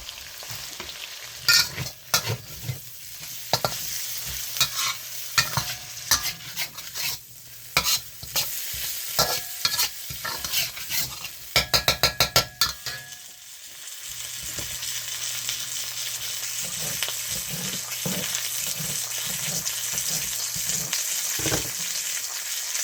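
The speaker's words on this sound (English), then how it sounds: "Just going to stir fry this up for a few minutes." A pantry Korean barbecue sauce dish is stir-fried in a pan: a rapid run of close spatula scrapes and clacks over crackling oil, bursts of stirring giving way to a steady, softer sizzle in the later half, with no talking.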